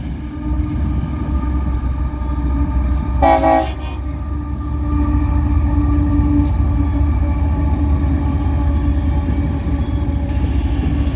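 A Norfolk Southern heritage unit locomotive leads an oil train past at close range, a loud continuous rumble and rail roar with a short horn blast early on.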